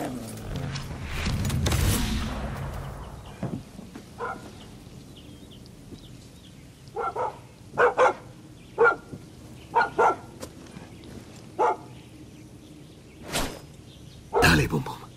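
Several sharp dog barks ring out one after another from a dog in the video game Far Cry 6, spaced over a quiet game background after an earlier loud rush of noise.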